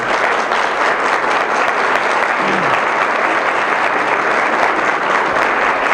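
A room full of women applauds, a broad, even wash of clapping that stays loud and unbroken throughout.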